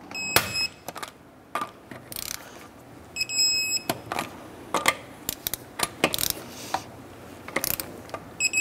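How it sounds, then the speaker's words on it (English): Torque wrench tightening the wheel lug nuts on a 2006-2013 Chevrolet Impala to 100 foot-pounds, giving a series of sharp ratcheting clicks and metallic snaps with short pauses between, close and fairly loud. "torque down our wheels to 100 foot-pounds"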